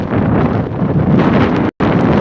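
Wind gusting across the microphone at a pier by the bay, a loud steady rumbling buffet that drops out for a moment before resuming.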